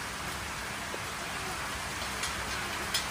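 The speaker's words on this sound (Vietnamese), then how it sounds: "Mưa Rồi đang mưa" Steady rain pattering down outdoors on a roadside, a dense, even hiss throughout with a couple of faint drips or knocks standing out near the end.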